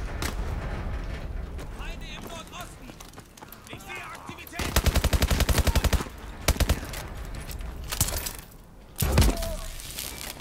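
Automatic rifle fire in the Call of Duty Advanced Warfare shooter, a loud rapid burst midway followed by shorter volleys and single heavy shots, amid game noise with someone talking in places.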